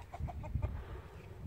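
Several hens cluck in quick, overlapping bursts close by inside a coop, a busy, low muttering chatter of farm birds with no talking.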